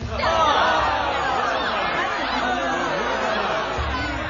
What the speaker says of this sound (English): The Pharisees heard the crowd whispering these things about Jesus.